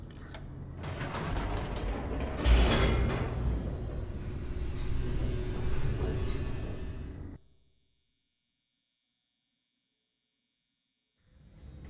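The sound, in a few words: elevator descending in the video game Stanley Parable 2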